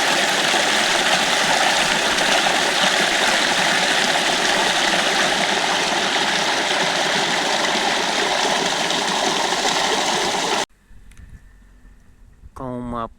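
Water rushes loudly and steadily along an irrigation channel into a wheat field for about ten seconds, then cuts out, leaving quiet background with a voice at the end.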